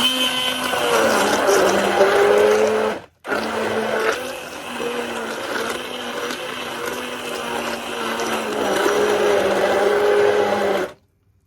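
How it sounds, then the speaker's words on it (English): A kitchen blender whirring loudly as it purées jerk seasoning ingredients with dark soy sauce, running steadily, pausing briefly, then resuming with a pitch that dips and rises as the mixture churns. "In goes our dark soy sauce, and then we're gonna blend these."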